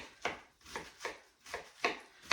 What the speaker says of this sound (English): I'm actually gonna cut this up. I tend to like to use the head lettuce.